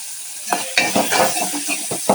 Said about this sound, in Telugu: బాగా ఫ్రై కానివ్వాలి